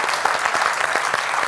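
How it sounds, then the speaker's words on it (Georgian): A studio audience on a television comedy show claps in a brisk, continuous round of applause, dense and fairly close, with no voices above it. "აპლოდისმენტებს იმსახურებთ"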